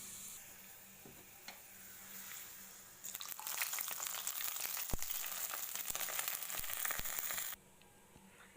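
Mustard seeds tempered in hot oil hiss into buttermilk moru curry, a sudden loud sizzle that bursts in and holds steady for several seconds before dropping away, close and with no talking.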